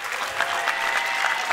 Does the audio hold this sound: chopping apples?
no